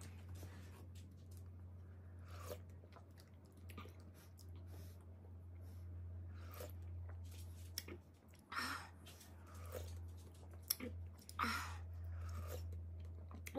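Close, quiet chewing while eating mala tang takeout with condensed-milk flower buns, soft wet squishes and occasional crunches in irregular bursts over a steady low hum.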